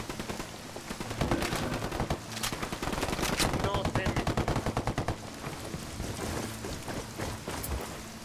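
Heavy automatic gunfire from a squad assault in the Ghost Recon Wildlands tactical shooter game, with dense rapid bursts and overlapping shots sustained throughout, loud and close, with game voices faintly under it.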